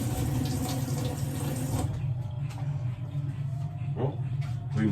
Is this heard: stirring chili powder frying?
no